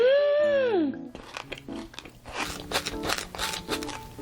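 A black sesame kataifi cookie is bitten and chewed close up, with a run of crisp crunches following a brief voiced exclamation at the start.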